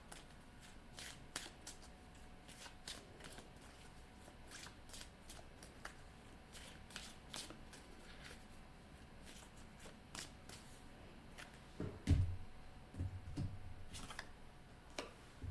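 A deck of cards is shuffled repeatedly, giving crisp riffling bursts in a steady rhythm close to the listener, with a brief thump partway through and no talking.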